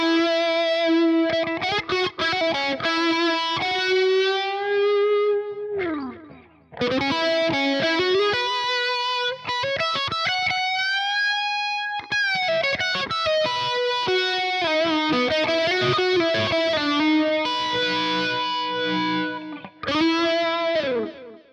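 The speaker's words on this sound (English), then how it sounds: "a nice little overdrive with a phaser and a splash of delay" Overdriven electric guitar solo with phaser sweep and a splash of delay, sustained singing lead lines and bends over a steady backing, loud and continuous with a brief break midway.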